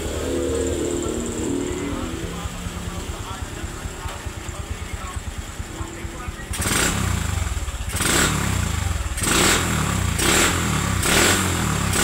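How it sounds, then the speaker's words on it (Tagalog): Super stock motorcycle engine, a Honda Wave 125, running close by: a throbbing idle with rapid firing pulses, then a series of sharp revs bursting loud every second or so over the steady engine rumble. "Tunog ng super stock"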